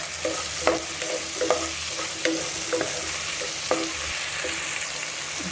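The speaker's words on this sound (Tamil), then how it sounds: "வெங்காயத்து கூட இந்த இஞ்சி பூண்டு பேஸ்ட்டு நல்லா வதங்கணும்." Onion, ginger-garlic paste and tomato sautéing in a pan for veg salna, a continuous close sizzle with regular scraping stirs of a spoon repeating about every second, no voices.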